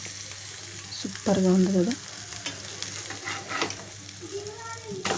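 Onions and green chillies fry in a pan with chilli powder and salt, a steady sizzle broken by louder scraping stir strokes, with a brief spoken remark over it.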